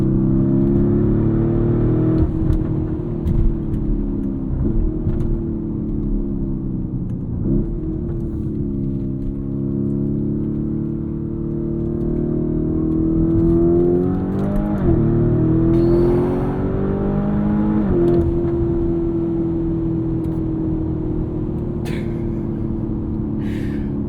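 2023 Lamborghini Urus S twin-turbo V8 in Corsa track mode, a loud, close engine drone rising and falling through gear changes as the car accelerates. Nobody speaks over the continuous roar.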